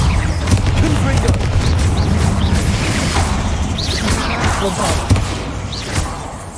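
Confringo fire spell blasts in the Hogwarts Legacy video game, several booming explosions with crackling debris over a rumbling game soundscape, near and loud, with a voice shouting the spell name.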